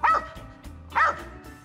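A hunting dog worked up during a squirrel hunt barks twice, short excited bow-wow barks close by with a pause between them, no talking.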